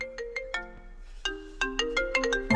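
A mobile phone ringtone plays a bright, bouncing electronic melody of short repeated notes, close and clear, with no voices over it.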